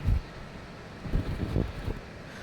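Air purifier fan blowing steadily, with the microphone turned close to it, giving a broad, even whoosh of moving air with a few soft low thumps.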